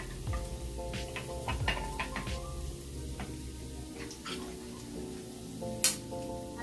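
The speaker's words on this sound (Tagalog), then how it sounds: "Ito na nang ikuan guys, igisa ng sardinas." Sardines sauté in a pan with a low, steady sizzle and occasional light clinks and scrapes of a utensil stirring, close up and fairly quiet, with a faint tonal hum in the background.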